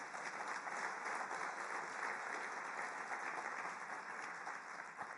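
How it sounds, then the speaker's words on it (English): Audience applause in a large hall at the closing of the UN Refugee Forum progress review, a steady wash of many hands clapping at moderate distance, continuous and even throughout. "Big applause."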